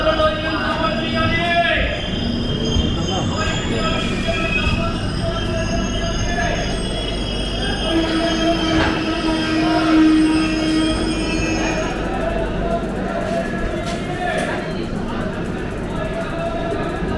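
Duronto Express train from Howrah to SMVT rolling on rails, a steady loud rumble with wheel squeal and clatter throughout, passengers' voices murmuring over it.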